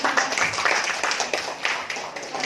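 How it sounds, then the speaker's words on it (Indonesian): Audience applause at a teachers' reflection session, a dense run of many hands clapping steadily throughout, moderately loud and close, with no talk over it. "kita beri aplaus dulu ya Bapak Ibu"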